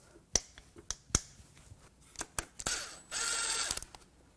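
A ratchet loosening a bolt on a Jeep 4.0L engine: a few sharp, separate clicks, then a dense, rapid burst of ratcheting near the end, close and fairly quiet.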